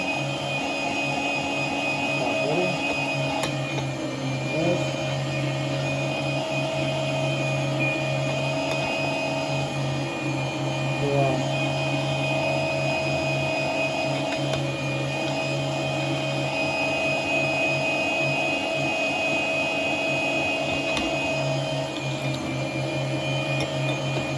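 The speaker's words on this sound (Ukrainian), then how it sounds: "Отже, запускаємо м'ясорубку." An electric meat grinder mincing meat for sausages drones steadily and loudly throughout, a constant whirring motor hum with a faint grinding texture underneath and no talk.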